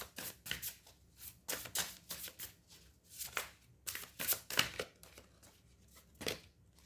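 A tarot deck is shuffled in a quiet room, a run of soft papery riffles and slaps in uneven bursts, close and fairly faint, with no talking.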